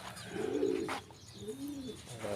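Pigeons coo softly nearby, two low, rolling coos separated by a short pause.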